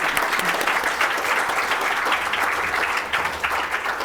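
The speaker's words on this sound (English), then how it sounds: "Please join me in giving him another round of applause." Sustained audience applause rises at an awards ceremony, a dense and even wash of many hands clapping at once, loud and close throughout with no voices breaking through.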